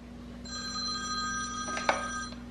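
A telephone rings during a call on an iPhone, steady tonal ring tone starting after a short pause and continuing nearly to the end, with a couple of brief clicks or knocks in the middle.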